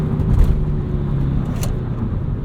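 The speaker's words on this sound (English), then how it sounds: "Heel toe downshift into 2nd" A 1997 Volvo 850 R heel-toe downshifts into second, its engine note rumbling low and steady inside the cabin with a brief blip of revs near the start, loud and close.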